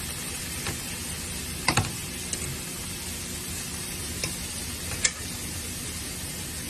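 Low carb chicken pieces sizzle in a pan with a constant soft frying hiss, and a few sharp clinks and scrapes come through as the pieces are turned. Nobody speaks.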